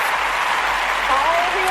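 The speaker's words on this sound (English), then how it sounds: "Let's give her a round of applause." A studio audience gives a short, steady burst of applause, with a voice speaking over the clapping.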